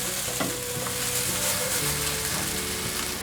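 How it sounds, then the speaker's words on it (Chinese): Shiitake mushrooms, seasoned with a pinch of rose salt, are stir-fried quickly in a pan, giving a steady close sizzle with the scrape and clatter of tossing throughout. "快速翻炒"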